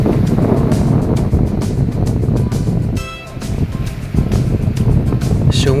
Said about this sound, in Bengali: সমুদ্রের গর্জন আর বাতাসের সুরে মুগ্ধ হয়ে যাচ্ছিলাম